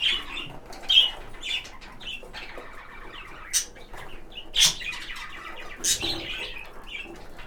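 Caged budgerigars chirp and tweet busily up close, with sharp squawks and brief bursts of wing flapping scattered through the constant chatter.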